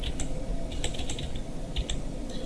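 A computer keyboard clatters with quick, close keystrokes as a search term is typed into a Windows search panel. The taps come in short bursts with no voices.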